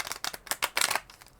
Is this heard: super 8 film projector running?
no